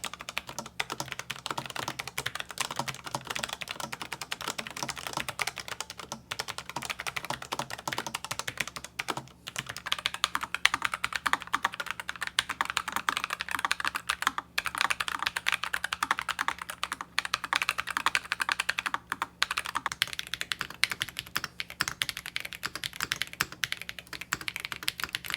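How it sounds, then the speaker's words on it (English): Steady, continuous typing on a Logitech G915X low-profile tactile mechanical keyboard, crisp clicky keystrokes in a quick, even rhythm, close up with no voices. "Here's a typing test of the tactile G915X and a comparison to a normal profile tactile switch"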